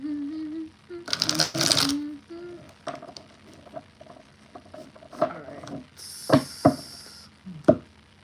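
A deck of tarot cards is shuffled during a live reading. The shuffle comes as short bursts of crisp riffling and flicking, with scattered taps and clicks between them, heard close up.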